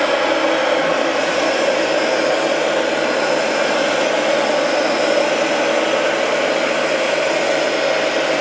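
A Bissell carpet cleaner running over carpet, giving a loud, steady motor whine and airy suction roar that holds constant without pause.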